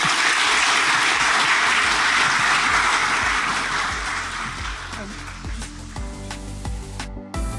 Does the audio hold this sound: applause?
yes